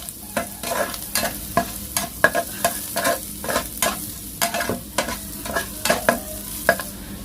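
Garlic is stir-fried in a pan with softened shallots for salted mackerel. A utensil strikes the pan in a quick regular rhythm of scrapes and clacks over a constant close sizzle.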